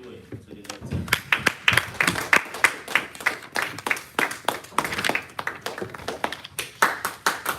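Small Toastmasters audience clapping to welcome a contest speaker to the lectern, sparse and uneven claps, close and crisp, with no voices over them.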